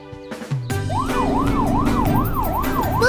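A cartoon ambulance siren wails in a steady up-and-down rhythm, loud and close, after a few short musical sound effects.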